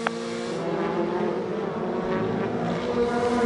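A WTCC touring car engine refiring after a stall at the 2016 France round, a sharp start followed by a steady, buzzing racing-engine drone that holds and slowly climbs in pitch.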